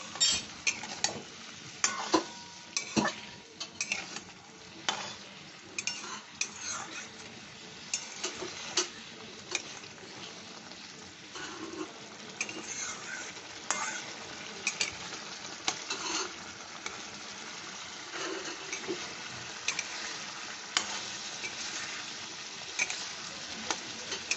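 Spice paste cooking down with a splash of water for a fish roe fritter curry bubbles and sizzles steadily, while a spoon scrapes and taps the pan in frequent, irregular strokes, close and fairly quiet.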